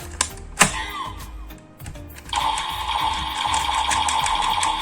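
A few sharp clicks, then a steady high-pitched mechanical rattling buzz starts and keeps going: a Kamen Rider Geiz DX Zikan Girade toy weapon firing rapidly up close.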